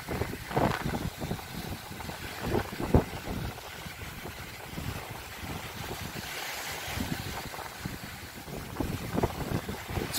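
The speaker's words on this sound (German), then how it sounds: "Zu viel Wind, ja." Strong wind on an ocean sandbank buffets the microphone in a steady, rough roar that swells and gusts throughout, with no speech.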